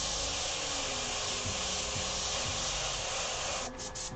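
Airbrush spraying paint onto Oniva camp chairs, a continuous loud airy hiss close to the listener that holds steady, then briefly sputters near the end.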